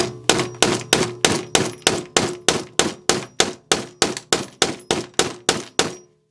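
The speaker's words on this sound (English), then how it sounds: "It's chipping the glass." A tungsten carbide tipped glass breaker bit repeatedly strikes and chips glass, about sixteen sharp, ringing clangs at a steady, even rhythm, close and loud with no talking.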